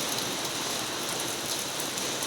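Heavy rain pours down in a dense, unbroken wash of close, even patter on surfaces, with no voices.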